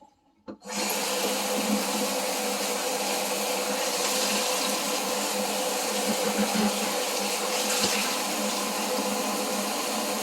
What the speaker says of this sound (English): Just drain them and wash them.